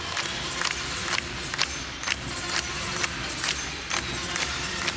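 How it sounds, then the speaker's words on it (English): An arena crowd at a collegiate gymnastics meet claps along rhythmically with a floor routine, sharp regular claps over a dense, continuous background roar of cheering voices. "Getting the crowd engaged and involved, clapping along with her as she gears up for her last and final pass"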